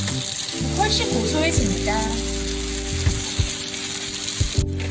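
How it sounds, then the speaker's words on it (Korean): Butter and vegetables frying together in a pan at home, a steady sizzle running beneath a short spoken remark, with a few clinks toward the end. "버터를 야채와 함께 구워볼까요?"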